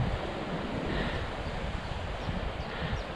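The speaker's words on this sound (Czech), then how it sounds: "Tady pěkně řeka z vrchu, jak teče." A river flows below a high vantage point, a broad, steady rush of water mixed with wind noise on the microphone, constant and fairly loud throughout.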